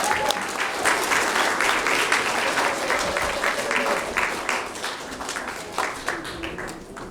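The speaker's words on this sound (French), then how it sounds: "On les applaudit s'il vous plaît." Wedding guests applaud the newlyweds in a sustained, dense round of clapping that stays loud throughout and tapers slightly at the end, with a few faint voices and whistles mixed in.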